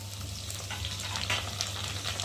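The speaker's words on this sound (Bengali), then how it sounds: "আর দেবো টমেটো কুচি" Chopped tomato frying in a pan with potatoes, ginger paste and cumin paste, a moderate steady sizzle with faint crackles and a low hum underneath.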